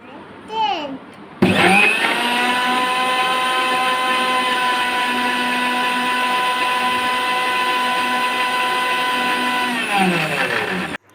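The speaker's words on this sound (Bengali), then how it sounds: "দুধ আর কলা একসাথে দেওয়ার পরে এই পর্যায়ে আমি ব্লেন্ড করে নিচ্ছি।" A kitchen blender whirs steadily for about nine seconds as it blends sliced banana and milk into a milkshake, starting abruptly and winding down at the end, loud and close, with brief talk before it begins.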